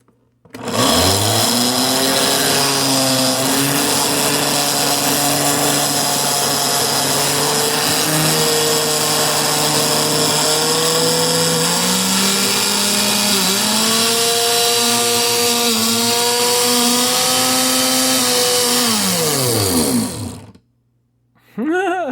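A 1978 Osterizer Galaxy blender motor spins up with a rising whine, holds a loud, steady high-speed roar with slight pitch shifts for about twenty seconds, then winds down and stops.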